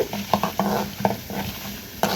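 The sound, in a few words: tempering lentils and mustard seeds frying in oil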